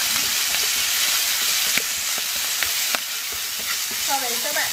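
Mussel rice porridge seasoning sizzles steadily in a hot pan while it is stirred, a loud continuous frying hiss with scattered scraping clicks of the utensil close by.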